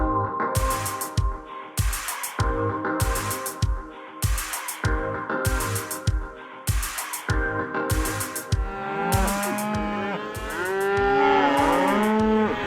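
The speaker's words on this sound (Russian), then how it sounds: "Все, я распугал всех коров." Rhythmic bursts of broadband thumping repeat steadily while several cows moo loudly and overlap, their calls growing more insistent toward the end.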